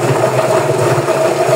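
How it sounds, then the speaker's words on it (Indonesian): A homemade machine driven by a washing machine motor gives a steady, close, droning mechanical hum with a faint rhythmic vibration and no talk over it. "Ini adalah mesin cuci."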